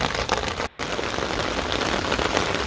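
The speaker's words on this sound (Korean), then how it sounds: "빗소리 커진 거 들리시나요?" Heavy monsoon downpour with wind on a rooftop garden of flower pots, a loud, steady roar of rain hammering surfaces close by, broken by a brief cut of silence, with no talking.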